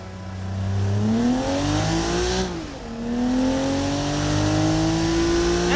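Blaze i6 car accelerating hard on a test track in the BeamNG driving game, engine pitch climbing steadily through the gears with a short dip at a shift, loud and close, with no talk.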